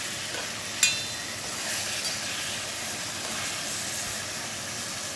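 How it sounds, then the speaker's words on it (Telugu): Tomato pieces sizzling in a pan with cooked onions, for a drumstick and tomato curry: a steady, close frying hiss with one short clink near the start, no voices. "నేను టమాటా ముక్కలు ఇందులో వేసేస్తున్నాను"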